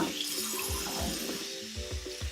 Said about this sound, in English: I'm washing it under hot water